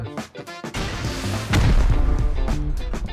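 Gunfire in a video game cracks out in heavy bursts, starting with a few sharp shots and then swelling into a loud, dense barrage of booming reports.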